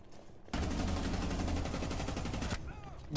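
Automatic gunfire in Rainbow Six Siege rakes a wall in one loud, sustained rapid burst lasting about two seconds, with a quiet moment before and after.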